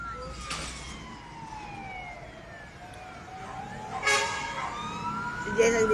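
A fire truck siren wails in rising and falling sweeps at a residential fire in Happy Land, Tondo, Manila, with several sirens overlapping and fading in and out over crowd noise and voices.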